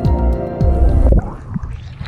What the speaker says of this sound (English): don't know if you can even hear me with the sound of the water right now